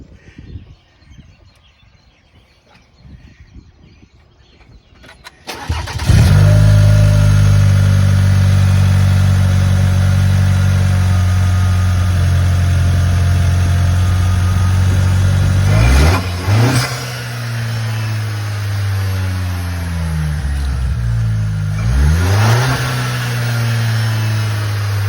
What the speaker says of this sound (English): you can hear the turbo a little bit better